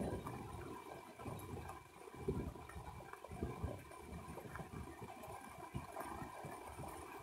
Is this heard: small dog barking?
no